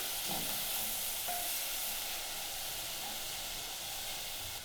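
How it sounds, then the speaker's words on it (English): Ripe tomatoes cooking in a pan, a steady, fairly soft sizzle and hiss with faint stirring clicks near the start. "Then we're going to add our tomatoes, ripe tomatoes, and let it cook."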